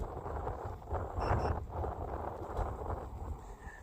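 Desert wind buffets the microphone of a rider on an electric scooter crossing Tucson, a close, continuous rumbling roar that swells and eases in gusts.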